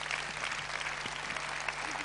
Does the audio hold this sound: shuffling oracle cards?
no